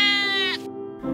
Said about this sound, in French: qui bêlent